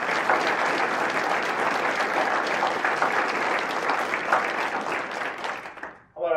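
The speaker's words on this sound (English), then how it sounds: "How about a nice round of applause for all of our winners and nominees this year." An audience at a university foundation scholarship luncheon claps in a sustained, dense round of applause, steady and full for about six seconds before tapering off abruptly, with a voice starting at the end.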